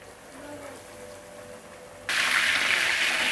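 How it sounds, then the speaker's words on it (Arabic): Cordon bleu dropped into plentiful hot oil sets off a sudden, loud, steady sizzle partway through, after a quieter stretch of low kitchen hum. "وننزل بيها على الزيت على طول، وننزل في زيت يكون سخن"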